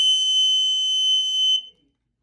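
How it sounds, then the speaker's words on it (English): A homemade trip-wire perimeter alarm sounds a steady, piercing electronic tone, loud and close, for about a second and a half before cutting off into silence. "And that's how you make the perimeter alarm."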